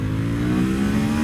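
A 2020 Ducati Monster 1200 S motorcycle with an aftermarket exhaust gives a loud, steady, close engine drone that is briefly held under acceleration.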